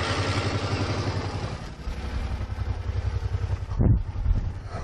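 A 2009 Suzuki Boulevard C50 cruiser motorcycle idles with a deep, even pulsing thump and a brief rise in revs near the end, heard close up.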